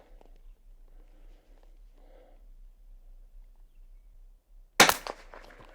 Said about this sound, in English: So shoot me a group.